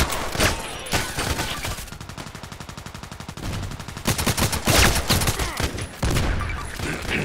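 A shotgun fires repeatedly in the Contract Wars online shooter: sharp loud blasts with a dense run of rapid shots in the middle, mixed with other gunfire and game noise.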